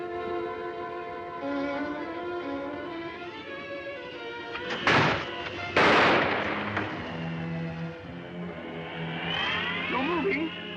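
Gunshot in a 1945 Sherlock Holmes mystery film, two loud sharp reports a second apart cutting through orchestral music, with speech-like background tones around them.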